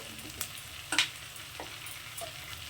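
Tomatoes with turmeric and chili powder sautéing in a pan, a soft steady sizzle punctuated by several crisp spatula scrapes and knocks, loudest around the middle, without speech.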